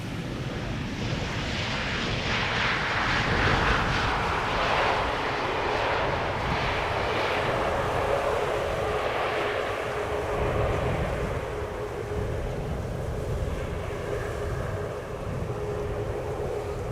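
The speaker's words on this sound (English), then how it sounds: "Here we have the TUI Max 8 that is rented by Transavia, arriving from Preveza" A TUI Boeing 737 Max 8 airliner arrives at Amsterdam Schiphol on a sunny day, its steady broadband jet roar sustained and fairly loud throughout with a faint whine, no voices.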